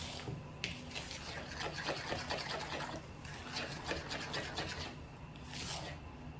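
Fork whisking vanilla funfetti batter in a bowl, a steady rapid scraping and tapping rhythm that carries on nearly unbroken, close and fairly quiet with no talking.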